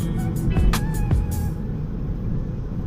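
A car engine rumbles with a low exhaust growl, rising briefly in pitch before settling into a steady idle-like drone.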